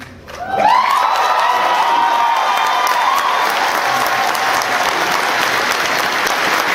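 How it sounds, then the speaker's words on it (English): Large convention audience erupting into loud, sustained applause with whoops and cheering, a high shout rising over the clapping near the start before the roar settles into a steady wash. "Listen to that applause."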